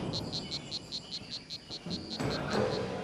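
Repetitive croaks from a territorial male frog defending its spot on a jungle river, rhythmic pulses fired off in a steady volley toward a rival, loud and close over a noisy background with insect-like chirping.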